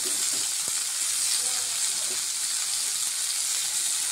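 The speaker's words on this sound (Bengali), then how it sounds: "পেঁয়াজটা ভাজা হয়ে গেলে এবার দিয়ে দেবো টমেটো কুচানোগুলো" Chopped tomatoes and onions frying together in hot oil, a steady bright sizzle with a faint stirring scrape, close and continuous throughout.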